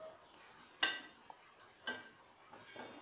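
Chayote potato chips frying in a pan get turned over with a metal utensil, giving a few sharp clinks and scrapes against the pan, spaced apart over a faint background of sizzling oil.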